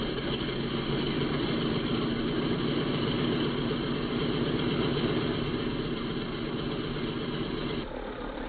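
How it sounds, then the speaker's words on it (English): A B-17 bomber's number 2 radial engine running at idle, a loud, steady, throbbing low rumble with rapid pulsing that holds evenly throughout, then drops slightly in level near the end, with no talk over it. "Signal to start number 2."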